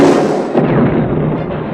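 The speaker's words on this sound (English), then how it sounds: "Explosions ripped through the base, leaving it in flames." Explosions rip through a Starfighter base under attack by fighters firing laser cannons and proton missiles, a loud, dense burst of booming blasts that rolls into a long crackling, rumbling decay.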